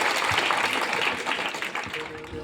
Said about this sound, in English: clap your hands for sir